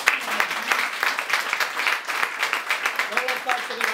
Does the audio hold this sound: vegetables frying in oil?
no